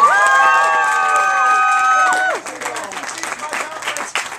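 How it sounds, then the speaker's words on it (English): At a Renaissance faire show, an outdoor audience claps and cheers after a performance, first under a loud sustained tonal cry, then as scattered, uneven clapping from a fairly close crowd. "Give them a big round of applause."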